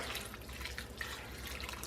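Chicken broth pours into a slow cooker for a chicken broccoli Alfredo, a brief steady liquid splash and trickle heard close and alone.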